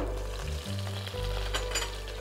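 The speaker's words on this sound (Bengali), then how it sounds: "চিংড়ি মাছটা ভাজা হচ্ছে।" Prawns fry in hot oil with a steady, close sizzle and crackle, a low hum underneath and occasional spits rising over the constant hiss.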